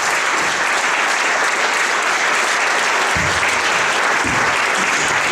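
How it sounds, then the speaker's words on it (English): Concert audience giving a round of applause for a big band at a fall concert, loud, dense clapping that stays steady throughout. "Give a nice round of applause."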